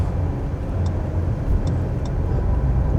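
Steady interior road noise from a car cruising on a highway in India, a continuous low rumble of tyres and engine with faint wind hiss and a few small ticks, no talking.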